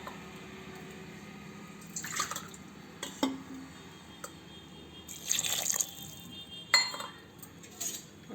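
Water pours into a cooking pot of tomato dal, arriving in a few short splashing bursts with light clinks of metal and glass against a quiet kitchen background.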